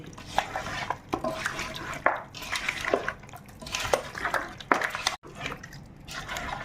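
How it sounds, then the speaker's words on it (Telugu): Yogurt is worked into chicken pieces for chicken dum biryani, producing close, wet squelching and sloshing in uneven strokes with a few sharp clicks against the bowl. "ఈ పెరుగు కూడా బాగా పట్టించాలి."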